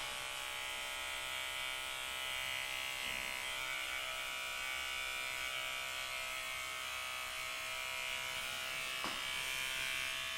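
Electric dog clippers trim hair from a dog's paw pads, a steady close buzzing hum running unbroken throughout, with a couple of faint brief clicks or knocks mixed in.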